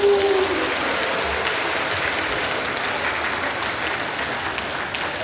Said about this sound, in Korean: 우리 뜨겁게 박수 주시고